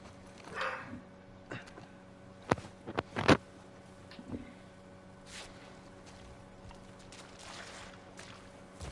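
Horse hooves clip-clop in The Last of Us video game, a few scattered hoof strikes with a louder cluster of thuds in the middle against a quiet background.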